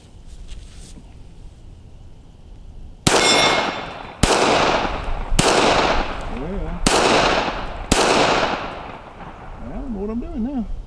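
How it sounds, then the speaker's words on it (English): Five sharp gunshots from a Smith & Wesson Shield 380 EZ pistol crack out at a steady pace on an outdoor range, each with a ringing tail, and a voice murmurs faintly in between the shots. "let's shoot 2 more mags and then we'll be done"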